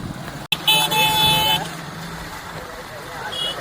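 Heavy road traffic rumbles by with a car horn blaring for about a second and another short toot later, under an engine drone, with voices mixed in.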